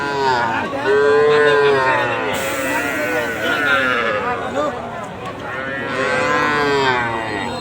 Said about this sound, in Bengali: এই দেখেন অনেক সাইজের গরু কিন্তু আছে